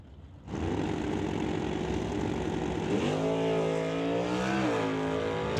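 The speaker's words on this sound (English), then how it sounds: "Steve Baskerville bringing up the Golf, racing Daryl Stobie in the Stobie Construction Chevelle" A drag race start pairing a VW Golf against a Chevelle fitted with a wheelie bar: loud engines roar in after a brief hush, then pitch climbs and shifts as the cars accelerate hard, with no talking.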